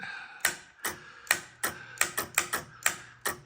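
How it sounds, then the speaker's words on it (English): Heavy mechanical clunks from a large push-to-talk relay in a Harvey Wells TBS-50D radio transmitter, about ten in uneven succession, sharp and close, each snapping on and fading quickly against a quiet background. "I'm happy with the clunk. It's a monster relay in there, right?"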